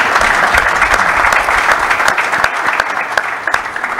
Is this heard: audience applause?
yes